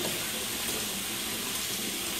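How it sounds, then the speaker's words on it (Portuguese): Water gushes steadily from a tap, a constant close splashing hiss with no pauses and no voices. "Barulho de torneira"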